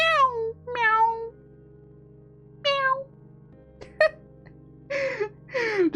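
A human voice mimics a cat, giving about six separate meows, some high and drawn out, others short and clipped, with quiet gaps and a steady low hum underneath.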